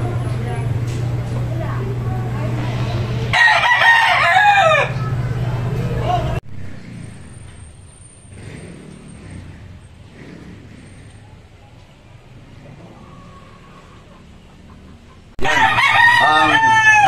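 Gamefowl roosters crowing at a poultry expo, several loud crows ringing out near the start and again at the end, with chatter and low crowd hum in between and a person talking.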